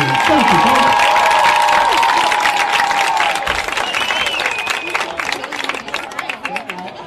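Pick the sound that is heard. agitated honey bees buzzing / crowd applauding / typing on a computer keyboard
crowd applauding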